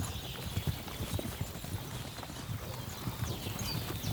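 Horse hooves clip-clop in a steady rhythmic walk in the medieval video game Kingdom Come Deliverance 2, moderately close and continuous, alone without talk.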